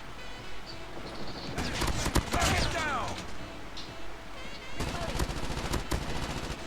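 Rapid bursts of automatic gunfire in Call of Duty Mobile, loud and close, come in two stretches of rattling fire with a short lull between them, while a voice talks over the shooting.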